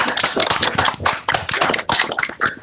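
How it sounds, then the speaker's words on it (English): Scattered applause from an online audience, unmuted together on a video call at a Python community virtual event, comes through as uneven overlapping claps and taps, fairly loud and close, without much echo. "let's all unmute and try to do the applause"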